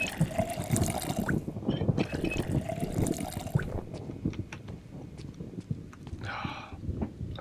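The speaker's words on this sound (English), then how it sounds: "Let's fill our water bottle up while I remember." Water trickling into a bottle in the zombie survival game Project Zomboid, a light liquid pour with scattered clicks and a brief splashy burst near the end, heard alone without talk.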